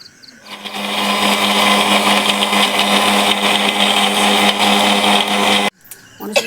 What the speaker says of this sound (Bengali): তাই মিক্সচারে পেস্ট করে নেবো